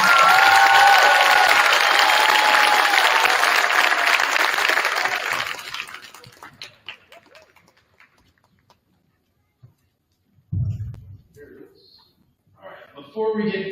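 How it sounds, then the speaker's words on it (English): A crowd claps loudly for several seconds at a school winter band concert, the applause tapering off into scattered claps, followed by a pause and then a voice speaking. "One more big round of applause."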